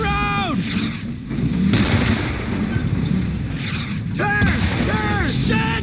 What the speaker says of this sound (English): There'll be mortars! Incoming!